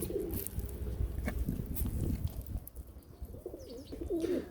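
Pigeons coo in soft, rounded bursts close by at a home loft, with a low rumbling background and a few faint chirps and wing flutters mixed in.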